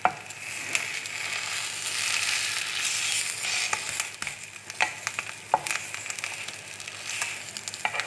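Stuffed egg omelette with dried tomato and green chilli frying in a pan, a steady close sizzle with occasional sharp clicks and scrapes of a utensil, no voices.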